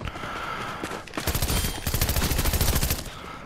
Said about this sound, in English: Just being shot at in every direction.